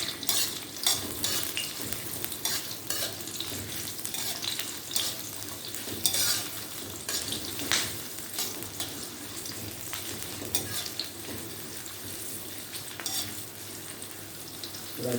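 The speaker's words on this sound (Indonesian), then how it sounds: "Masukkan juga bawang yang sudah dipotong halus. Ini ditumis sampai layu saja ya" Finely chopped onions sautéing in a pan for a spicy sour chicken dish, a continuous sizzle overlaid with frequent metallic clinks and scrapes of a utensil against the pan, without talking.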